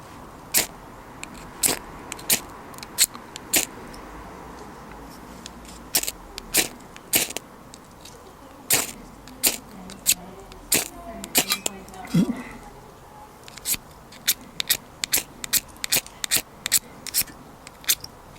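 Sharp scraping strikes of a ferro rod against a camping stove come in irregular bursts, sometimes in quick runs and sometimes in single rasps, over faint background noise.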